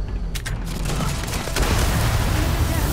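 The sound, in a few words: grenade explosion in a video game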